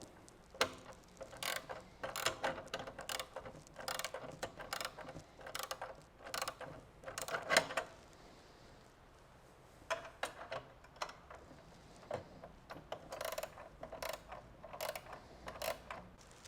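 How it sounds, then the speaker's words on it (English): Two wrenches tighten bolts on a metal bracket, producing short bursts of clicking, ratcheting and metallic scraping with brief pauses between turns, fairly close but quiet. "grab your 2 wrenches and tighten them all up"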